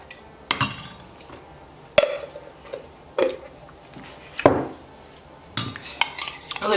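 A metal spoon clinks against a cup while stirring honey into coffee, several sharp separate taps spaced about a second apart, close and fairly loud with little else around.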